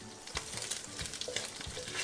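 Garlic sizzling in hot olive oil in a pan for a seafood linguine sauce, a soft continuous crackle and fizz with small pops and spits, faint and close.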